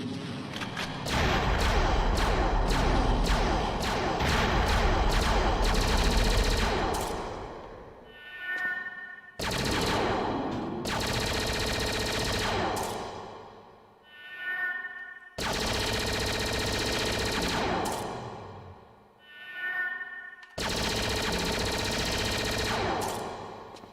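Bursts of rapid automatic gunfire in Perfect Dark played on Xbox Series X, loud sustained volleys broken by brief gaps where ringing tones fade out, repeating several times.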